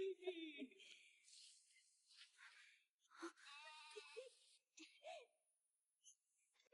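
Sheep bleating in a rural farm setting, several wavering high-pitched bleats scattered across the stretch with gaps between them, moderately faint, with some voices mixed in.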